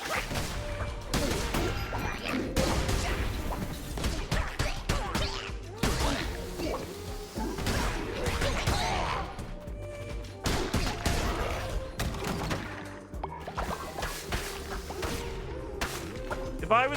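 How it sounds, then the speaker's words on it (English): In the video game Cult of the Lamb, a demon drops bombs, giving repeated crashing blasts and thuds with whooshes amid busy combat effects, dense and rhythmic throughout, with a voice talking over parts of it. "My demon is already dropping bombs."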